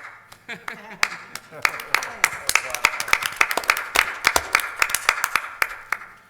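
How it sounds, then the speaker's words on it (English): Applause for city staff at a city council meeting: a small group claps in sparse, uneven bursts, close and fairly loud, with a voice speaking briefly near the start. "Applause for the city staff."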